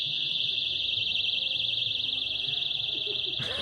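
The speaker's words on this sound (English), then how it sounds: "Each has got like beepers, alarms in them." Electronic alarms hidden inside protesters' balloons emit a continuous high-pitched warbling beep, loud and steady throughout, filling a room over faint background murmur.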